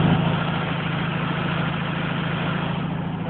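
An old Volkswagen Beetle engine idles with the choke engaged, a steady, close, loud low chug that holds even throughout with no revving.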